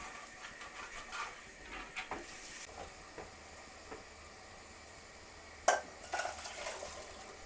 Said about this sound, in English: Plus we're getting all the brown bits off the base of the tin, which is basically just the turkey goodness